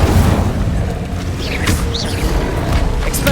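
Incendio fire spell cast in Hogwarts Legacy, a loud, steady magical whoosh with rumbling low-end mechanical creaks and a couple of sharp swishing flourishes, alone without voices.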